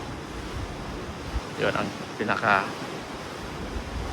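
Strong wind buffets the microphone on the forward deck of a cruise ship at sea, with a steady roar of waves and rushing air beneath a brief stretch of talking.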